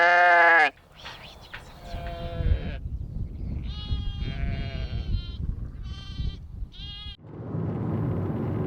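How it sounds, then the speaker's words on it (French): A small flock of Corsican ewes on an organic farm bleats repeatedly at close range, with one loud cry followed by several overlapping calls over low barn rumble. "récemment, là, j'ai racheté un petit lot de brebis corse"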